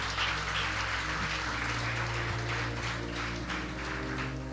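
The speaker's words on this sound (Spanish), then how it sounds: "Denle un aplauso a la cabeza que es Cristo" Congregation applause during a church Bible study, clapping for Christ as the head. A dense wash of many hands continues steadily throughout, heard over a constant low hum, moderately loud and without speech.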